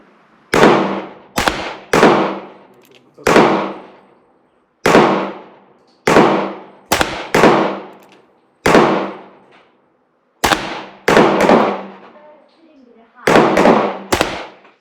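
A revolver fires cast Lyman 358101 wadcutter bullets outdoors, about fourteen loud, sharp shots in irregular pairs and singles with ringing decay and quiet gaps between them.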